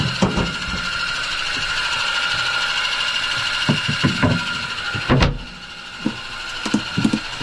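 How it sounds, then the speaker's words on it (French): A Sunfizz 12-volt, 60-liter-per-hour water desalinator runs with a steady mechanical hum and pump vibration, while knocks, clunks and handling thumps punctuate it at close range, and the tone drops quieter once a cover closes. "Là on a démarré le dessal."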